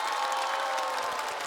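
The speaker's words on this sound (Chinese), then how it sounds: "我们掌声欢迎房主任" A stand-up comedy show audience welcomes a performer onto the stage with a dense, steady wash of applause and cheering that fills the whole stretch, with no speech over it.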